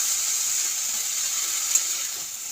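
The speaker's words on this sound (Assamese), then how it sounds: "মিডিয়াম ফ্লেমত ভাজিব লাগিব, নহ'লে গোটেই মছলাখিনি তলত লাগি ধৰিব।" Masala fries in a pan over a medium flame, giving a steady, even sizzle with one small pop near the end.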